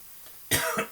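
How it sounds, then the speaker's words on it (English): A close, sharp cough after a moment of quiet, followed by a second shorter cough. "Sorry, I always start coughing when I do a narration."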